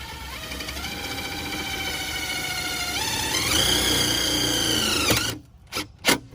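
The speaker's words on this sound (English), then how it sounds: "So I'm gonna use these self-tapping screws and just mount it right here." A power drill drives self-tapping screws to mount a bracket, with a steady whining motor rising in pitch in steps over several seconds, then stopping abruptly, followed by a couple of short bursts as each screw seats.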